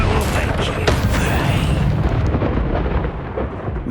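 A Confringo fire spell explodes in the Hogwarts Legacy video game, a loud booming blast with a rumbling tail that fades near the end.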